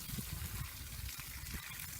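Water from a hose or can poured into the well around a newly planted bare-root fruit tree, a soft steady splashing and gurgling into soil and mulch, faint and continuous with no talk.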